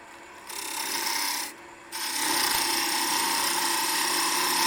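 A lathe gouge makes a peeling cut on a spinning wooden scoop, giving a steady close hiss and rasp that breaks off briefly and then resumes, continuous and fairly loud.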